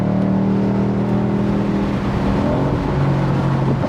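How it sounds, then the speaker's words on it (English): A 2024 Ford Mustang's exhaust roars steadily from inside the cabin while driving and accelerating, a loud continuous engine drone with shifting pitch, wind noise mixed in. "I don't know if the microphone's picking up the exhaust, but it is glorious."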